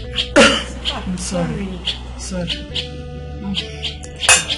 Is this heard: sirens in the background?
no